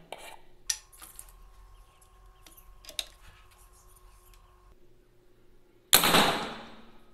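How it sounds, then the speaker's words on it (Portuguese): A PCP airgun fires a 19.9-grain pellet on its low-power setting at about 800 FPS. One sharp, loud report bursts out near the end after a stretch of quiet handling clicks and faint hum. "Vamos efetuar um disparo aqui no primeiro estágio,"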